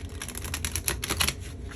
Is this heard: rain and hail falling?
no